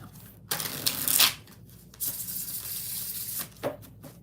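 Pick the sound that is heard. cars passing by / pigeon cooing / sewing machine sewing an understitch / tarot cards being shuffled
tarot cards being shuffled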